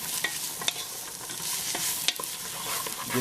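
Onions frying in a pan while being stirred, giving a continuous close sizzle with several sharp utensil clicks and scrapes against the pan at irregular intervals.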